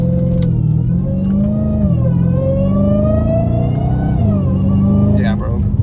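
A Dodge Hellcat Redeye's engine revs close and loud, a sustained supercharged roar that climbs steadily in pitch before easing off near the end, with voices talking over it.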